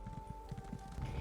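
A horse in The Elder Scrolls Online clip-clops with quick, faint hoofbeats in an even rhythm over a low hum.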